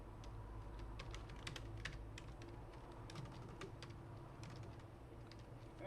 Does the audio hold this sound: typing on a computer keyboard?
yes